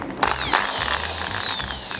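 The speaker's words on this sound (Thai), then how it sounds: "สิ่งที่อยู่ในมือผมตอนนี้เราเรียกว่าสว่านไฟฟ้า" An electric drill whirs at high speed while fixing Conwood decorative floor boards onto a cement floor, with a sharp onset and steady mechanical ratcheting buzz, close and alone.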